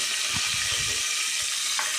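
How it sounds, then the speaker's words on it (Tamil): Onions, cinnamon and cloves sauté in oil inside a pressure cooker, giving a steady close hiss of sizzling broken by soft stirring scrapes, with no voices. "ஒரு குக்கரில் ஆயில் ஊற்றிட்டு பட்டை கிராம்பு போட்டுட்டு வெங்காயம் போட்டு நல்லா வதக்கலாம்"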